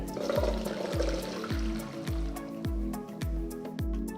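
Water pours and splashes steadily through a strainer, a continuous wet rush with faint rhythmic tones repeating underneath, no voices.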